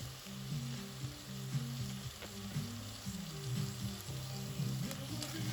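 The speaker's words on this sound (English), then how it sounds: "Then we're gonna stir in the sage and the thyme. And also the garlic." Sage, thyme and garlic are stirred into a sizzling pot of smoked sausage and celery for lentil soup. A continuous close frying sizzle carries occasional utensil knocks, with faint music playing in the background.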